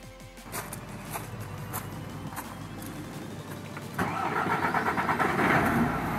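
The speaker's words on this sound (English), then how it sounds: "With our fault codes cleared and the truck started and running okay" A DAF MX-11 truck diesel engine cranks and then fires up, settling into a steady, louder idle that runs on continuously after start.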